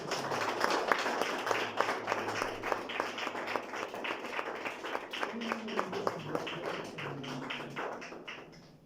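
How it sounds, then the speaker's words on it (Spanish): Church congregation claps during a Spanish-language service, many hands in a fairly rhythmic, sustained applause that gradually thins and fades toward the end, with faint voices underneath. "Dale un fuerte aplauso al Señor."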